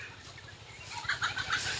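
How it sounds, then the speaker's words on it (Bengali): A chicken clucks a few short times outdoors on a sunny rural path, faint and somewhat distant over a low background hum. "ওই মুরগি।"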